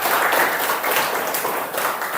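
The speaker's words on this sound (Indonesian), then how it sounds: "Beri tepuk tangan untuk perwakilan dari kelompok 2" A classroom group claps for a student representative of group 2, a dense burst of applause from many hands, close and lively, without pause for a couple of seconds.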